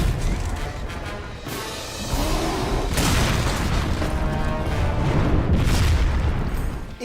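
Kratos brings down Helios' chariot in God of War 3 with a loud, rumbling crash and booming explosions that roll on continuously for several seconds.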